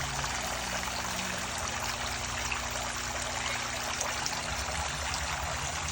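Steady water trickling and pouring continuously from an aquarium shower into a crayfish tank, a close, even splashing stream with a low hum underneath.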